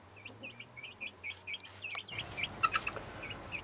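Chickens on an allotment plot give a quick run of soft, evenly spaced clucks and chirps close by, followed by a brief burst of sharper peeps over light background noise.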